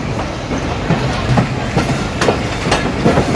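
The Nakshikantha commuter train pulls away from the Kamalapur platform in Dhaka, its wheels clacking in a steady rhythm over a loud, continuous rolling rumble.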